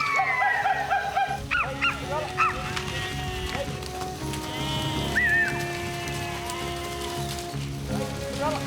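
Sheep bleat repeatedly at close range while being worked on an outback station, mixed with dog barks and general yard noise, with a voice heard briefly.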